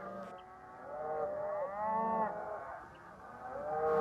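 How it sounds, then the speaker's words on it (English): Distressed cattle moo and call through the night near a wildfire, several long bellowing moos overlapping at moderate distance, rising and falling in drawn-out waves with no voices. "The cows in the area were pretty distressed all night long. They mooed and called all night"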